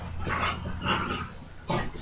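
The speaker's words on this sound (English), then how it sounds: "Dogs are nuts" A dog barks and whimpers close by, with yips and whiny bursts repeating in uneven spurts amid room noise.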